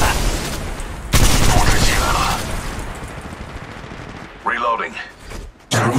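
Rapid gunfire and heavy bursts of weapon fire in the mobile shooter game Apex Legends Mobile, loud and close, with brief game voice lines over the shooting.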